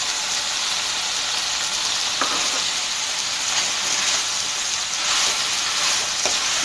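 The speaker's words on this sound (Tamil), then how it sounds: "அதையும் அதோட சேர்த்து நல்லா வதக்கணும்." Banana flower and greens sauté in hot oil, making a steady, dense hiss that runs throughout, with a few faint ticks and light stirring touches and no talking.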